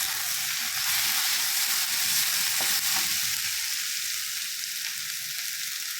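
Ginger, garlic and turmeric powder fry in a hot kadai for a home-style chicken fry, giving a loud, continuous sizzle up close with occasional stirring scrapes.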